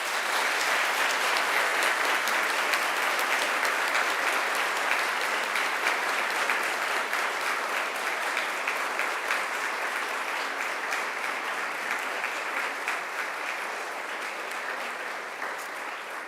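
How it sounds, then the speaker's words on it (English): A crowd at a Macquarie University graduation ceremony applauds families and friends, a long, dense and steady wash of clapping that holds fairly even throughout and eases slightly near the end, with no talking. "now it's time to give them a mighty round of applause."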